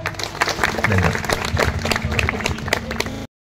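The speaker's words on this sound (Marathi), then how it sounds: "तर एकदा सगळ्यांसाठी जोरदार टाळ्या" Audience applause at a Diwali Pahat event held by the Brahma Kumaris and Swarvedh Foundation, a dense burst of clapping from a crowd that keeps going, with some voices mixed in, then cuts off abruptly.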